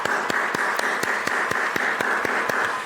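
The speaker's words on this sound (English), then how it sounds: "Hands up and round of applause if you enjoyed today." Audience applause at the close of a day's session: a steady wash of clapping with sharper single claps standing out at a regular pulse, continuous and fairly close throughout.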